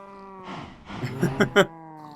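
Minecraft cows moo in a few short, close calls, a low bovine lowing heard over steady game background music.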